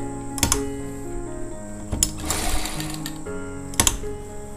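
A sewing machine stitches along the piping of a koti jacket, with brief clattering bursts and a longer run in between against a steady tonal background.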